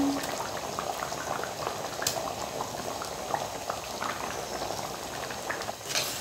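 A pot of Tamil lentil dumpling curry, paruppu urundai kuzhambu, boils steadily, with continuous bubbling and small pops and no talking.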